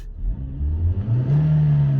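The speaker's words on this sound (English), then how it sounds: "Now it's more or less revving properly." A car engine runs near idle after a repair for a fault, holding a steady, fairly loud hum. Its pitch climbs slightly partway through and then settles, with no voices over it.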